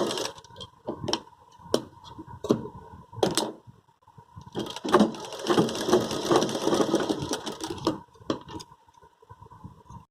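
A sewing machine stitches lace onto a cotton sleeve of a small dress, with scattered close ticks and clicks leading into a sustained run of stitching, then more isolated clicks, no talk.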